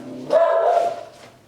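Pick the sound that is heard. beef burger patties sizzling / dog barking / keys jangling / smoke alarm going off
dog barking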